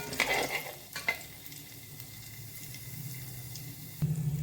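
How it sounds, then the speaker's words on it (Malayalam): Cumin, black pepper, cashews and ginger frying in ghee, a soft steady sizzle with a couple of brief stirring clatters near the start and a louder pan knock at the end, with no voices. "ഇത് നല്ലോണം നമുക്ക് ഒരു മിനിറ്റ് നല്ലോണം ഒന്ന് ഫ്രൈ ചെയ്തെടുക്കാം."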